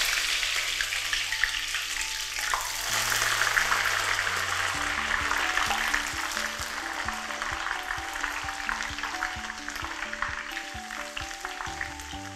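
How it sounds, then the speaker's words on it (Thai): Cut pieces of snakeskin gourami fish fry in hot oil over medium heat, a dense, steady sizzle and crackle throughout, with a low tonal melody playing underneath and no talking. "เราก็จะนำปลาสลิดลงไปทอดค่ะ"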